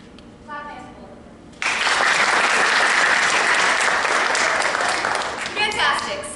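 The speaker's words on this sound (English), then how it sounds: "Clap hands." An audience at a theatre performance breaks into loud, sustained hand clapping after a moment of quieter talk. The applause starts abruptly and stays steady and full for several seconds before thinning as voices return.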